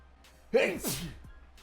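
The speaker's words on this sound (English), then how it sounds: "I just sneezed all over my arm" A single sharp sneeze with a quick breathy intake, close and clear against a quiet background.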